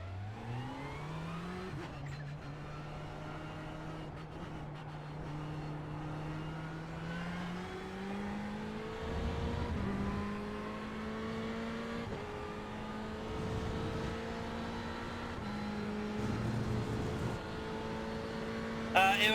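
A Ferrari GT3 race car in iRacing at Silverstone, its engine droning and climbing through the revs, with a few pitch drops at gear changes and a muffled low rumble mid-run, heard steadily throughout.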